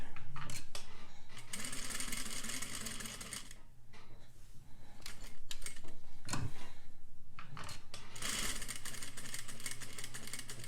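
Sewing machine stitching a quilt, a steady close mechanical whirr running in bursts and pausing briefly between runs of stitches, with no talking.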